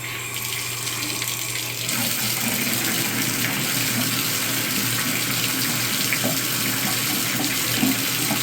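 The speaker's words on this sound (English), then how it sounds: "Go ahead and turn some water on." Water runs steadily from a Delta bathtub faucet, a continuous close splashing hiss that starts moderate and grows fuller after a couple of seconds, then holds alone without talk.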